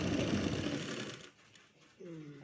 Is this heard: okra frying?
no